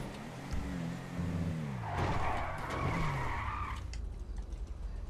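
Race cars skid and squeal their tires in the GTA FiveM racing game, a long loud screech over roaring engines that rises and falls before fading.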